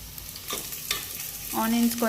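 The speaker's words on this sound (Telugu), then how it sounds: "ఆనియన్స్ ఫాస్ట్గానే వేగిపోతాయి" Onions fry in oil with asafoetida in a pan for an Andhra-style dal, soft sizzling broken by a few scraping stirs, with a louder frying hiss near the end.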